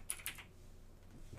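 Two quick computer keyboard keystrokes, typed to open system information while checking the BIOS version, sound faint and close against a quiet background hum, then fall silent.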